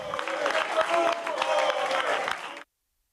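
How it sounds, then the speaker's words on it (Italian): Council members applauding the mayor during a city council session amid protest noise, dense clapping mixed with crowd clamour and voices, loud and sustained before cutting off abruptly. "i consiglieri di maggioranza si sono alzati ad applaudire il sindaco"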